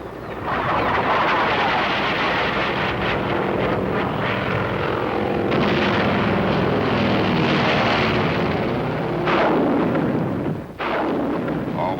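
Napalm strikes and an artillery fire barrage in the Korean War in 1951, with infantry advancing near the Chosin Reservoir. A loud, continuous roar of fire and engines is broken by heavy booming blasts.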